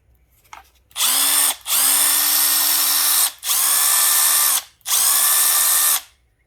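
A Milwaukee M12 cordless hammer drill whirs at speed 2 in four sustained bursts of about a second each, spinning up and cutting off sharply between runs, loud and close with no talking.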